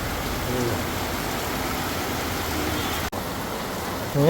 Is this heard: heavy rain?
yes